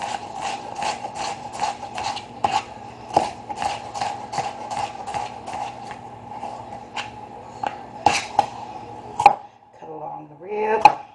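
Rapid knife chops on a cutting board as vegetables are julienned, a steady run of sharp, close, evenly spaced strikes for about nine seconds, then a few scattered clatters and handling noises.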